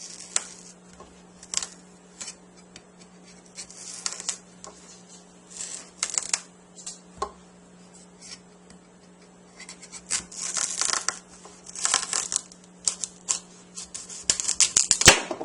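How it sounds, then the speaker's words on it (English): A knife cuts the ends off a rinsed spaghetti squash on a kitchen counter lined with a silicone baking mat, giving scattered crisp cutting cracks and crunches, some in quick bursts, fairly quiet with a steady low hum beneath. "now I'm going to cut off the ends"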